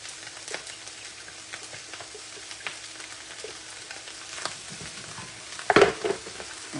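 Carrots, onions and garlic frying in a pan for fried rice make a soft, continuous sizzle with crackling pops, then a loud scrape of stirring near the end.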